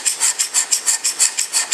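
A hand scraper cutting a metal surface in about ten quick, evenly spaced rasping strokes, each a bright close scrape with short pauses between.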